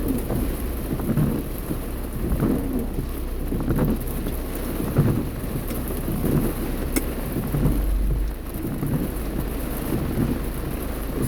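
Steady rain drums on a car while driving, a dense continuous wash with low rumbling road and engine noise underneath and occasional heavier spatters, close and fairly loud with no talking.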